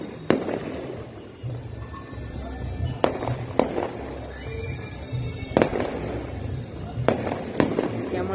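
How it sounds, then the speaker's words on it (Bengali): Firecrackers burst at the Tarakeswar temple festival during Nil Sasthi celebrations, several sharp bangs sounding at irregular intervals over a noisy crowd with voices talking throughout. "দেখো কি সুন্দর বাজি ফাটছে, বাবার বিয়ের বাজি ফাটছে"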